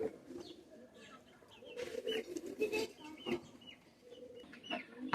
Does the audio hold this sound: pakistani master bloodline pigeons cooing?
yes